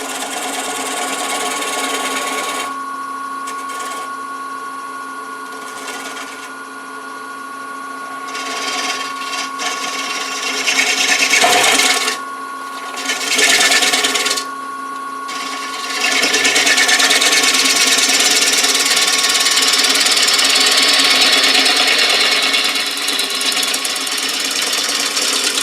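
A half-inch bowl gouge cuts a live-edge walnut bowl spinning on a lathe: a steady whirring motor hum with a scraping, hissing cut that swells louder in bursts and then holds near and continuous.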